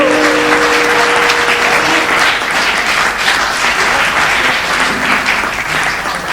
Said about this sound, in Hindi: आपने तालियां दो पंक्ति पहले बजा दी